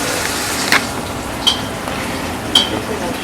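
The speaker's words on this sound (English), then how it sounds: "Frying them like they get that nice crisp on it." Mushrooms fry in a pan with a steady, close sizzling hiss, broken by a few light clinks of a utensil against the pan.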